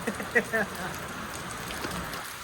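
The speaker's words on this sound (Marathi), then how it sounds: "शेवटी पाऊस आला" The season's first rain falls in a steady, soft hiss, with brief voice sounds near the start.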